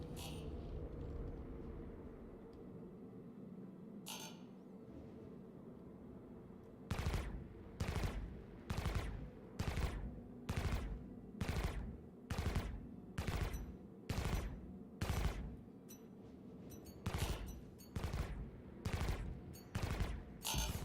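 Omnisky laser cannons firing in Star Citizen: a steady series of sharp, evenly spaced bursts, about one per second, over a low engine hum, with a single earlier shot standing apart.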